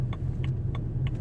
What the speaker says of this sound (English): you'll see what I mean by how the engine sound just kind of picks up.